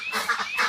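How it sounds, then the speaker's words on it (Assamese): White Pekin ducks on a farm of about thirty birds, a few close nasal honking quacks in quick succession, no voices. "আৰু এয়া মোৰ হোৱাইট পেকিং হাঁহ"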